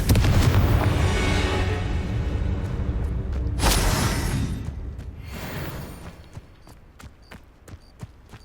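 A fire-blast spell in Hogwarts Legacy bursts into a loud rumbling explosion that swells, flares again, then fades into scattered sharp crackles and taps as the blast dies away.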